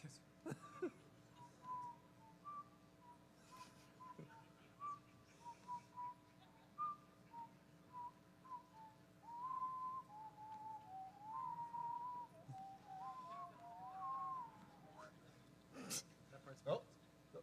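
A person whistles a meandering rendition of The Girl from Ipanema softly, with faint background voices and rustling, and a few sharp knocks near the end.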